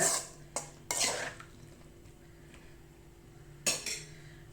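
A few clinks of a utensil scraping and knocking against a pot while aviyal is stirred after adding salt, with quiet stretches between the bursts.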